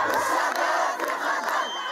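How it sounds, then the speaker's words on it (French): Dense crowd of protesters gathered outside the great mosque of Fnidek, Morocco, on a Friday, shouting their anger in loud, continuous overlapping cries that swell and pulse without pause. "Une foule compacte devant la grande mosquée de Fnidek. Comme tous les vendredis depuis plusieurs semaines, ces hommes et femmes crient leur colère."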